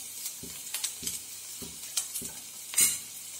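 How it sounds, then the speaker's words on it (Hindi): Ginger and green chilies crackle in hot oil, a light sizzle marked by evenly spaced stirring knocks of a spoon against the pan, close and fairly quiet. "देखिए तेल गरम हो गया है, सबसे पहले हम डालेंगे अदरक और हरी मिर्च"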